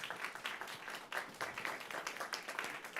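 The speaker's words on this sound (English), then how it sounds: "Let's give them a round of applause." Audience applause at a community panel event on aging and housing services, a steady wash of many hands clapping from a modest crowd, fairly close and sustained throughout.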